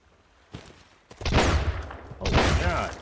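Bursts of gunfire in the survival game Sunkenland, a couple of loud sharp volleys rising over background noise, with a player talking over them.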